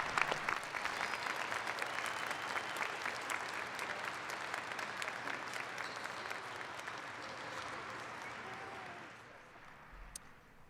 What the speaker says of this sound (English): Let's give all our doctoral degrees one more round of applause.